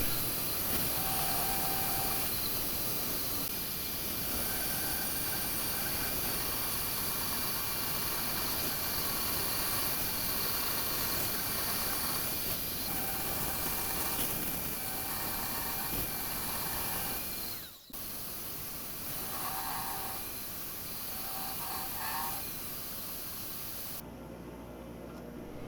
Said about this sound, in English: I'm using a DeWalt Portaband saw in a Swag off-road stand